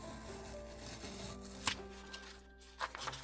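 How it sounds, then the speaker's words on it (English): Pages are cut from a book for a vintage grunge junk journal, with short papery snips and rustles breaking through a steady low hum and faint tones, and no voices. "So I'm just going to cut a few pages out of here."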